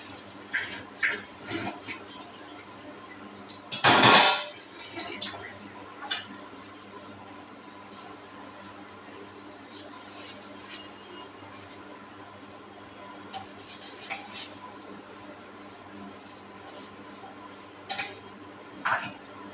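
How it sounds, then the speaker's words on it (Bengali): Dishes are washed by hand, with scattered clinks and rubbing of pots and utensils, one loud clatter near the start, then quieter scrubbing and occasional taps. "ভাতটা হতে থাক, বাসনগুলো ধুয়ে নিই।"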